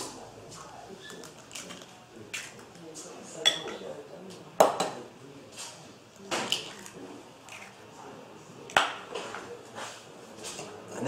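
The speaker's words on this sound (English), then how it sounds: "So we'll just whisk that together, just to incorporate everything" Eggs being whisked into a thick chocolate cake batter in a bowl, quiet irregular scraping and clinking of the whisk against the bowl with occasional sharper taps.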